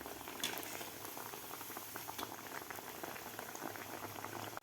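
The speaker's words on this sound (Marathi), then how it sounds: "दोन्ही साईडकडून आपल्याला असे मस्त तळून घ्यायचे आहेत." Sabudana vada (sago fritters) deep-frying in hot oil until crisp, giving a steady, dense bubbling crackle that runs unbroken through the whole stretch at moderate level, with no voices.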